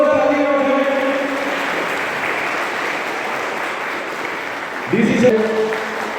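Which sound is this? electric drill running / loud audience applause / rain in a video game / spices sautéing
loud audience applause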